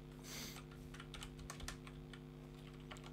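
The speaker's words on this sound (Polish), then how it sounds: "Ja się zastanawiam, czemu mi enter nie działa na tej klawiaturze" Small computer keyboard without a numeric keypad being typed on in quick, irregular clusters of light clicks over a steady background hum, faint and close.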